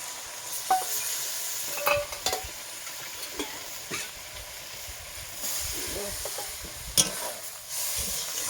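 Vegetables such as potato, gourd stems and tomato are stirred with lentil dumplings in a pan: a low, continuous frying hiss broken by occasional spoon scrapes and taps, close but fairly quiet.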